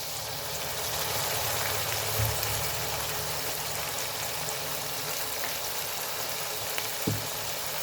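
Vegetable noodles fry in a hot pan, giving a steady, close hiss and sizzle that runs unbroken with a couple of soft clinks from stirring.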